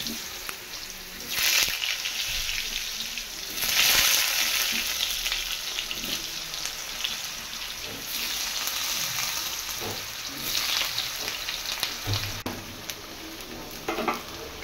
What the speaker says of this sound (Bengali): এখানে আমি আলুগুলোকে ভেজে নেব, কিন্তু আলুগুলো ভাজার সময় নুন হলুদটা দেবো।